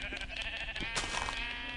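Sheep in the Minecraft video game bleating a few times in short wavering calls, moderately close, with no speech over them.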